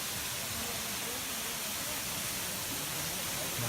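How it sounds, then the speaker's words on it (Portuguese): Véu da Noiva waterfall in Serra do Cipó, Brazil, roars as a loud, constant broadband rush of falling water close by, unbroken for the whole stretch. "Um espetáculo aqui da cachoeira."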